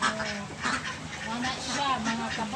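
Ducks quack on a small backyard farm also holding quail and goats, a few nasal calls rising over someone talking nearby.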